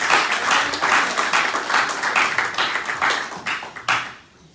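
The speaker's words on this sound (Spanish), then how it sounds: "Denle un aplauso al Señor." A church congregation claps in rhythmic, fairly close bursts that thin out and stop near the end, leaving a quiet tail.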